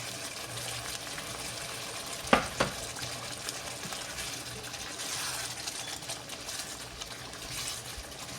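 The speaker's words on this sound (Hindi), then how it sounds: "अब हम इसके अंदर अपने चिकन डाल देंगे।" Chicken pieces go into hot masala for chicken tikka masala and sizzle steadily in the pan, with a sharp clatter early on over a continuous frying hiss.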